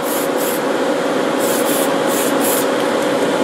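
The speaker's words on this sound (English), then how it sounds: "and I spray it just like the paint" Aerosol can spraying Tamiya TS13 clear coat onto a 1/14 Grand Hauler model truck part, a loud continuous close-up hiss with slight pulsing.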